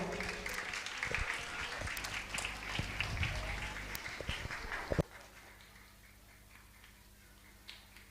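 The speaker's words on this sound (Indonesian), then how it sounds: "Boleh kita memberikan tepuk tangan" Applause from an audience at a madrasah graduation ceremony, brisk dense clapping for about five seconds that cuts off abruptly, leaving a quiet room with faint scattered noises afterward.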